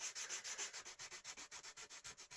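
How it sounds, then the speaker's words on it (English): Rhythmic strokes of 180 grit sandpaper smooth out grinder marks on a 1980s Realistic tuner part, roughly a dozen quick, even back-and-forth rasps, close and fairly quiet with no voices. "So now we need to do some fine sanding on it."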